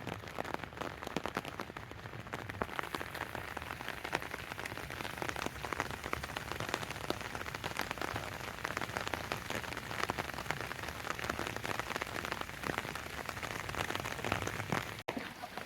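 Steady rain falling on surfaces in a Bangladeshi village, a dense, even hiss of drops that continues unbroken and fairly soft, with no voices.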